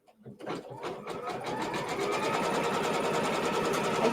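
A sewing machine stitches pieces of a diamond-in-a-square quilt block, starting with a few separate needle thumps before it settles into a fast, steady, close running whir that holds to the end.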